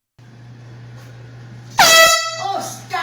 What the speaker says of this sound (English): the air horn pranks